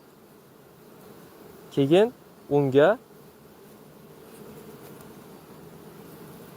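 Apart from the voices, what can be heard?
honey bees buzzing at a beehive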